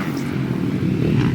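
A small Honda 50 motorcycle engine drones at a distance on a dirt race track, a steady buzzing hum held for a moment without speech.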